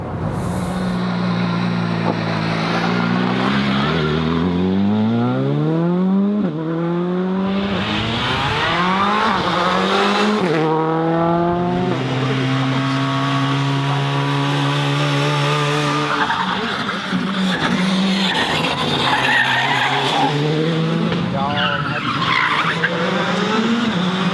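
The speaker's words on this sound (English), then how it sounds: "And now I'll also step in this very vehicle, the Skoda Fabia R5, the rally car, and Matthias Kahler will be driving me." A Skoda Fabia R5 rally car revs hard through its gears, the engine note climbing and dropping repeatedly with tire skids and squeals, loud and close throughout.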